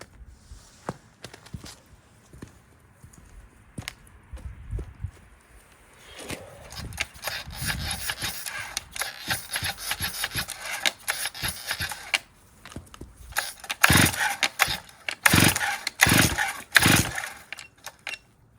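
A Stihl 044 Magnum chainsaw with the choke on gets repeated pull-start yanks; sharp, loud rasping cord pulls come in quick bursts, especially near the end, amid handling clatter, without the engine catching.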